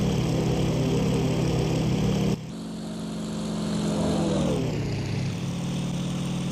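Aircraft engine and propeller droning in flight in the IL-2 1946 flight simulator, a steady loud hum that cuts off abruptly partway, then resumes and slowly shifts in pitch as the throttle changes.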